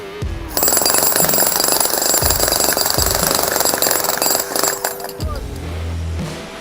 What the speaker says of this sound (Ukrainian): Це все той самий відбійний молоток.